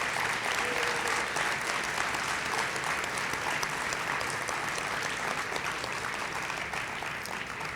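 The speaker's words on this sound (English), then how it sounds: "can we please give all of these wonderful award recipients another round of applause?" Sustained audience applause at a Susan B. Anthony awards celebration honoring award recipients, a dense, even wash of clapping filling the room from start to finish with no speech over it.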